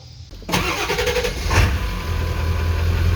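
A car engine cranks and catches after a brief pause, then settles into a steady, loud idle during an R-134A air-conditioning recharge.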